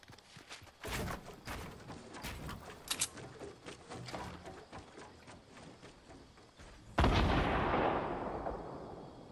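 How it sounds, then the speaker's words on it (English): Gunfire in the video game Fortnite crackles as rapid bursts of sharp shots and thuds over running footsteps, followed by a loud blast that trails into a rushing wash. "Oh, where are those gunshots coming from?"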